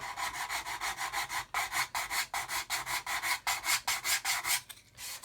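Repeated back-and-forth strokes of sandpaper over a plastic model kit surface, leveling seams in a steady rhythm of about a dozen close, fairly loud rubs with brief pauses between bursts.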